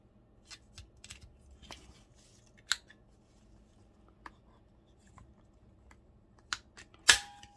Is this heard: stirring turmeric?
no